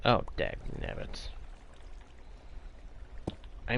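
Flowing water wash in Minecraft Bedrock Edition, from an aquifer under a player's base: a soft, steady broadband rush that fills the middle of the clip, with someone talking over the start and a brief voice near the end.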